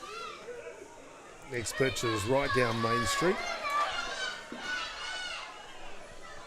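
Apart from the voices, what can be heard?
children playing at a softball game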